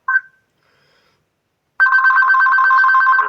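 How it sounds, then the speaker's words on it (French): An old landline telephone that belonged to a grandfather gives a short electronic chirp, then after a pause rings loud and continuous with a buzzing warble, alone and close. "c'est le téléphone fixe, l'ancien du grand-père."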